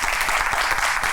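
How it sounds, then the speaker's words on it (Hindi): Studio audience applauding steadily during a game show, dense even clapping filling the short moment with no voices over it. "तो भाई अपने लिए आप लोग तालियां बजाएं"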